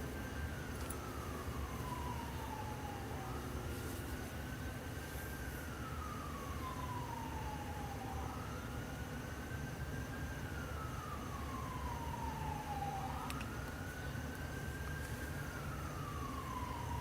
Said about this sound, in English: That siren sounded very close